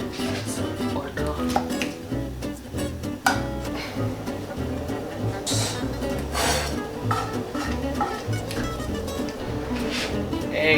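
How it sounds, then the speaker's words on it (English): A utensil stirs eggs with mushrooms, coriander and butter in a pan to make an omelette, giving repeated scraping and clinking against the pan over a soft sizzle, close and steady throughout. "Eggs go right into this and just stir this. Keep stirring it until the eggs start to thicken."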